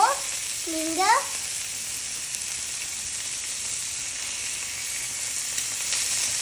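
Prawns frying in a little oil, a steady bright sizzle running throughout, with a short voiced sound near the start.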